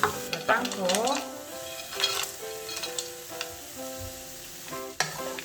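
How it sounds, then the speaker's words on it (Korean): Peanuts and anchovies stir-fried together in a pan, with light sizzling and repeated scraping and clattering of a spatula against the pan, close and moderately loud with no talking. "땅콩을 넣고 이렇게 같이 볶으면"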